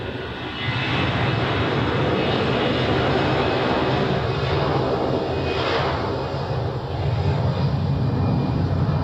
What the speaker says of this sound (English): here we have the Embraer from Munich.